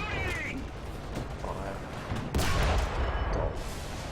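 A T-80 tank's main cannon fires in a video game, one heavy boom arriving at mid-clip over steady engine rumble and a talking voice.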